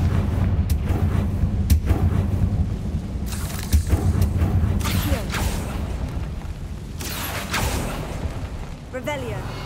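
Confringo fire spells go off in Hogwarts Legacy, a run of punchy, booming blasts at uneven intervals over a rumbling, stormy bed, with spoken voices in between.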